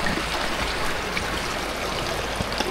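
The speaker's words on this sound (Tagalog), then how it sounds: "may narinig na akong tubig, agos ng tubig" Water flowing in a stream on a forest trail, a steady, full rushing and trickling wash that holds constant and close throughout, with no voices.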